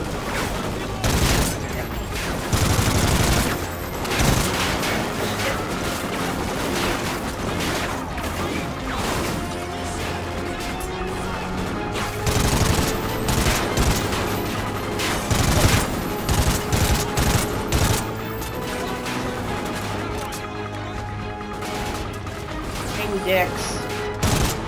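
Dense gunfire and explosions fill a Call of Duty Ghosts campaign mission, rapid bursts and crashes continuing loudly throughout, with a player talking over the combat.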